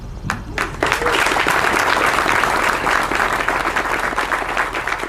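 Applause from an audience at a U.S. Army garrison change-of-command ceremony at Fort Leonard Wood, a dense, loud burst of clapping that rises quickly and holds steady.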